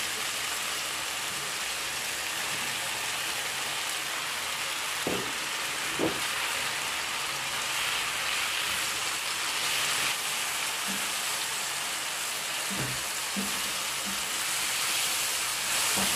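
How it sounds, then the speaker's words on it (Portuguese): Chicken and mushrooms fry in a pan for stroganoff, giving a steady, even sizzle throughout with a few soft stirring clicks and clunks, close and moderately loud, with no talking. "Aqui o nosso franguinho a fritar."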